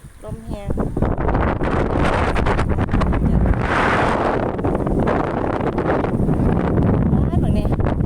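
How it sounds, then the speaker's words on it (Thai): Strong wind roars across the microphone beside a freshwater lake, a loud, constant gusty rush that barely eases, with a voice heard briefly at the start. "ลมคัก"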